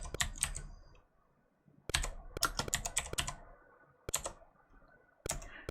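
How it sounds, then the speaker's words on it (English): Keys are tapped on a Commodore 64 keyboard on a C64X while playing a ZX Spectrum game, in irregular clusters of sharp, close clicks separated by brief quiet gaps. "playing a Spectrum game using a Commodore 64 keyboard to play it"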